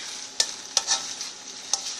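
Olive oil sizzles in a second frying pan for a stir fry with a soft constant hiss, punctuated by a few brief louder spits and crackles.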